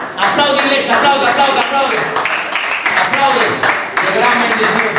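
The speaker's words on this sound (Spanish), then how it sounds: "Aplaude, iglesia, aplaude." A church congregation applauding during a baptism service, a dense, steady wash of clapping that fills the whole stretch with slight swells, under a backdrop of music and voices.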